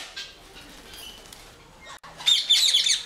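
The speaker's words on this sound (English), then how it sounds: "Here you can see the big aviary for the parrots and crows" Birds in a large netted aviary at an animal shelter that houses parrots and crows; faint rustling gives way to a cluster of sharp, bright chirps near the end, with no talk.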